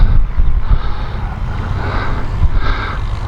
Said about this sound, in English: The breeze is really coming up now.